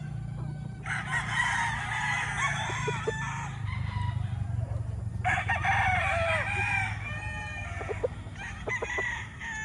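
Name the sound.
Kelso bloodline gamefowl rooster crowing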